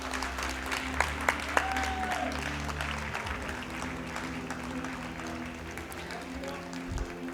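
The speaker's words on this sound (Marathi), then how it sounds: "एकदा जोरदार टाळ्या झाल्या पाहिजेत" Steady applause from an award ceremony audience, sustained throughout with a few sharper claps standing out.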